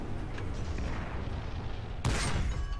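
A T-28 tank fires on a Panzer in the Ground Forces video game: a steady rumbling battle din, then one loud, close cannon blast near the end with a sharp crack and ringing tail.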